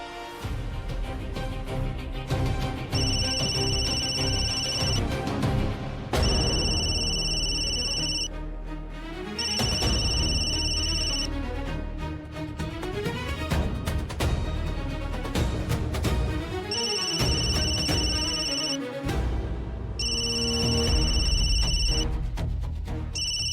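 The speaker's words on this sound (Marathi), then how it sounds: "फोन वाजतोय बघ की, उचल" A phone ringtone chimes in repeated bursts over a loud, continuous music backing, ringing several times with short gaps between.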